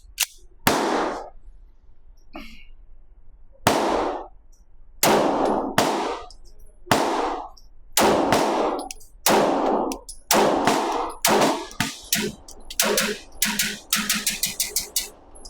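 Rapid pistol fire from a Rock Island Armory Derya DY9 loaded with a P80 magazine: about a dozen loud, sharp shots, spaced at first, then tightening into a fast burst near the end after a brief hitch.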